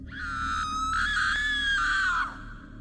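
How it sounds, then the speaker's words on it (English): A long, high-pitched scream rings out as a horror-story sound effect, sustained and loud for about two seconds before cutting off abruptly, heard alone without talk. "I heard it again. The same scream."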